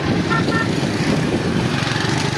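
Continuous engine drone of a motorcycle riding through town streets, loud and close throughout, with a brief high horn-like toot early on and no pause.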